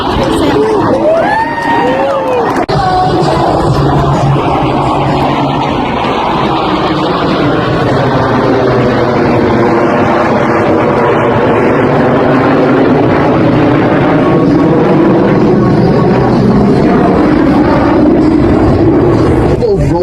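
Aerobatic planes fly an opposing knife-edge pass at the Wings over Houston 2024 airshow, and their propeller drone swells and shifts pitch as they cross. The engines are heard under a loud public-address commentary and crowd noise.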